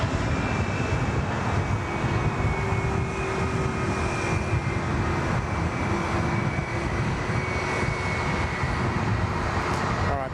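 All Nippon jet airliner taking off from Sydney Airport bound for Tokyo, a steady, loud engine roar with a sustained whine running throughout, heard from a distance without letup.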